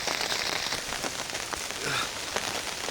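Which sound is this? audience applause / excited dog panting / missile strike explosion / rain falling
rain falling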